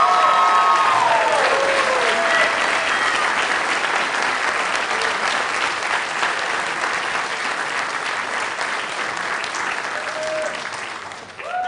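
Sustained audience applause for the winner of the first Nighthawk Rookie of the Year award at the 2025 NESTPY Awards, a dense steady clatter of many hands filling the room, with a few faint voices and cheers mixed in, fading slightly at the end.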